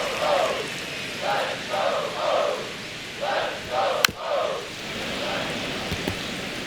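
A stadium crowd in the MLB The Show 25 baseball video game cheers in repeated rising bursts, a rhythmic swell of many voices under a constant hiss, with one sharp click near the end.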